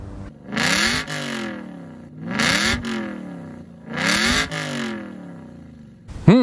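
A 2007 Aston Martin Vantage's 4.3 litre V8 revs three times in a row, each rising to a loud roar and dropping back to a steady idle, heard from close by the exhaust.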